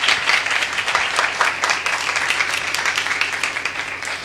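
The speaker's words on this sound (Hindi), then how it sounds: "एक अच्छी ताली बजाकर हम परमेश्वर को धन्यवाद देंगे।" A church congregation claps together in thanks, a close, lively burst of many hands beating in a quick irregular patter that stays strong for several seconds.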